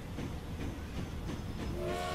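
A train rolls along steadily in the Transport Fever: Peninsula Interactive game, a continuous rumbling rail-car sound with faint clacking, heard alone without any voices.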